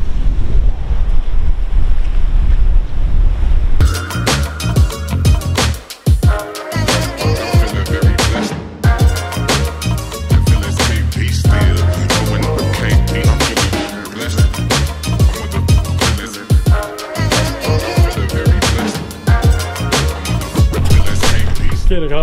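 Loud, constant wind roars across the microphone while Mediterranean sea waves crash and wash nearby in Malta, blustery and unbroken for the whole stretch.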